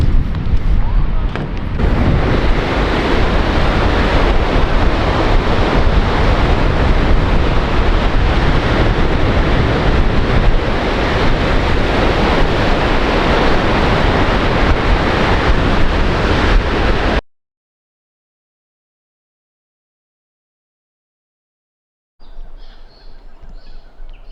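Ocean waves and wind on a beach, a loud continuous roar of surf with heavy wind buffeting the microphone for about seventeen seconds, then silence and faint rustling.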